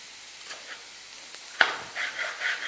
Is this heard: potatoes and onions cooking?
yes